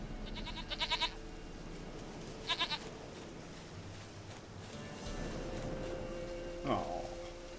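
Goat bleats in a video game, several short quavering calls in quick bursts near the start and again mid-clip, over a steady ambient game background with a fainter cry near the end.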